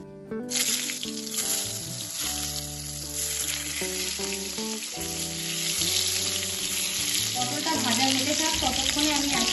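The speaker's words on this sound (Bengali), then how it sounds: "এবার আমি পটলগুলো ভেজে নেব" Pointed gourd pieces coated in salt and turmeric go into hot mustard oil in a kadai, giving a loud, steady sizzle that starts abruptly and holds throughout, with background music running underneath.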